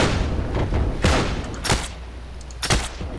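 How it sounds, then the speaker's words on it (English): Rapid bursts of automatic rifle gunfire and distant booms in the Heroes and Generals World War II shooter game, a dense fusillade of repeated sharp cracks over a continuous noisy battle background. "Can you not hear my automatic rifle?"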